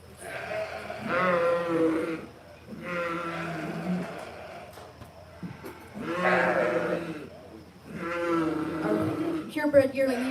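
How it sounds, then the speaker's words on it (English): A Dorset yearling ewe bleating at a 4-H sheep show, several loud drawn-out bleats in separate bursts close by, with crowd murmur in the background. "The Dorset Yearling ewe and Owen Torrance will have one in that class"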